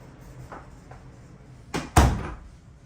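A closet door in a new Florida home is opened, with light knocks and then a couple of sharp clunks of the latch and panel against a quiet room.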